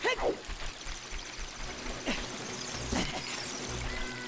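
Water flows along Zora's River in the N64 game The Legend of Zelda: Ocarina of Time, a faint, steady rushing stream with a few brief chirps and blips over it.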